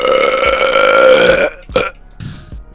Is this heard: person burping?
yes